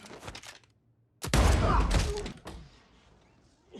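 A shotgun blast from the action film Nobody, fired at a henchman who is thrown back, lands as a loud, heavy boom with a rumbling tail, followed by fainter thuds.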